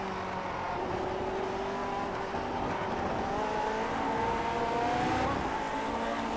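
A Lotus 49 race car engine in the iRacing simulator at Road Atlanta runs continuously at moderate volume, pitch rising and falling gently as the throttle is feathered through a corner, with no talk.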